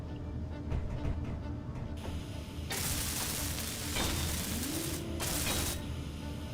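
Bursts of hissing, crackling welding on a rotor head in Space Engineers, two loud sustained stretches over a faint mechanical hum, with a short rising tone between them.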